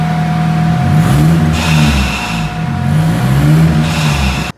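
Turbocharged K24 engine swapped into a Nissan A31 Cefiro running hard on a dyno, a loud, sustained rev that rises and falls through several pulls with turbo whine over the deep exhaust drone, no talking.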